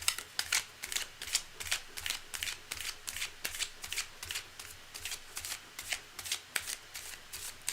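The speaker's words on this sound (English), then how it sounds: "Shuffling on top of shuffling on top of shuffling" Playing cards being shuffled, a rapid series of about fifteen crisp riffling bursts in a steady rhythm, close and clear with no talking over them.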